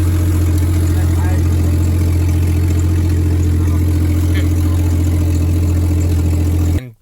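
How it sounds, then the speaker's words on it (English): A 1997 Jeep Cherokee engine idles with an exhaust leak just past the exhaust manifold, giving a loud, steady, close rumble with a constant low drone that cuts off at the end. "It has a significant exhaust leak right after the exhaust manifold where it meets the rest of the exhaust"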